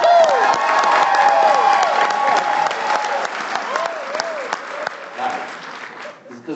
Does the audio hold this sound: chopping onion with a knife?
no